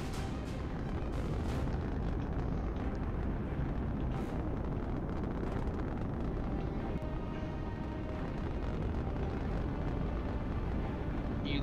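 Rocket blast in a Looney Tunes horror video game, a sustained loud roaring rumble with crackling bursts that holds steady throughout, no voices.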